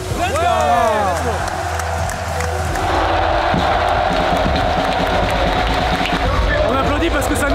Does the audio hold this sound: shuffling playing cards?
no